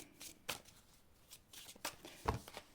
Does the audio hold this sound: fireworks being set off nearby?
no